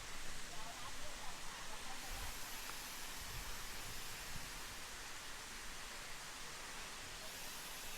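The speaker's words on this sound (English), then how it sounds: "we're getting into larger and larger waterfalls" Erawan Falls in Kanchanaburi, Thailand, pours as a steady, even rush of water, a broad continuous hiss heard from some distance at low volume without pause.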